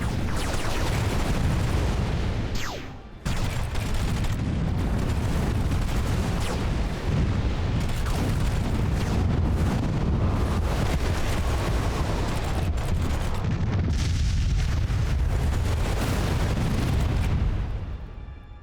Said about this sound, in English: Space battles in this are awesome.